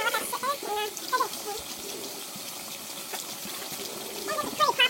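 Boiling hot water pours and trickles into a container with a soft, steady splashing. A voice talks briefly at the start and again near the end.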